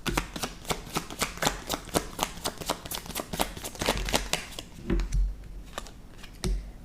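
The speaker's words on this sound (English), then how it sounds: "Let's pull one or two more cards." Tarot cards shuffled and pulled from the deck during a reading, a steady run of crisp, rapid card riffles and flicks up close, ending in a few softer thumps and slaps as cards are laid down.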